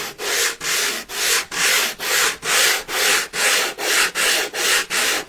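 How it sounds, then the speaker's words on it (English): Light hand sanding on wood, a steady back-and-forth scratchy rubbing in about a dozen even strokes, close and fairly loud with no talking. "Do a light sand."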